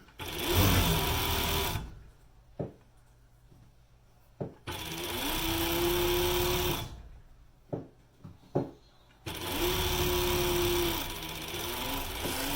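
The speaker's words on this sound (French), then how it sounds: "Puis je m'en vais coudre juste sur le bord." Sewing machine stitching along the edge of a lined toque, loud close buzzing runs in three bursts separated by pauses with small clicks and handling sounds.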